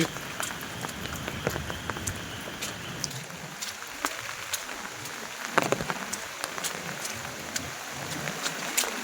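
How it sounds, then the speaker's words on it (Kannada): Steady heavy monsoon rain drums on a surface in a Malnad village, with dense scattered drop impacts and a continuous hiss throughout. "ಮಳೆ"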